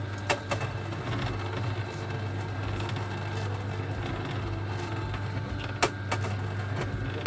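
An electric juicer runs while juicing an orange, giving a steady motor hum with a low tonal drone and occasional sharp clicks and knocks as the fruit is pressed, with no voices.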